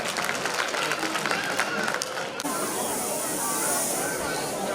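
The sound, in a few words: audience applause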